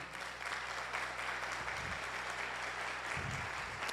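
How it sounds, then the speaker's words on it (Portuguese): Church congregation applauds during a sermon, a soft, steady wash of clapping heard at a distance with a low hum and brief murmurs underneath. "Pode aplaudir o Senhor?"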